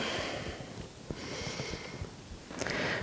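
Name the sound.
breathing during a yoga pose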